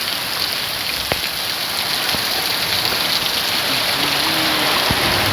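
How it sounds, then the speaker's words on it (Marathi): Heavy monsoon rain in the Konkan region pours steadily and loudly, a dense continuous hiss of drops drumming close against a phone, with a few sharper individual splats standing out. "माझ्या फोनवर पण पाऊस मारतोय."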